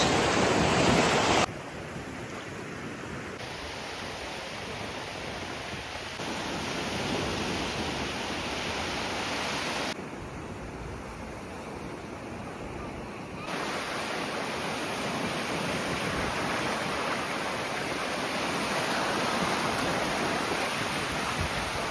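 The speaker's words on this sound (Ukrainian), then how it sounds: "Піщаний пляж." Waves wash onto a sandy beach in Valencia on a stormy day, a constant broadband roar of surf mixed with wind buffeting, fairly loud and close, with no voices heard.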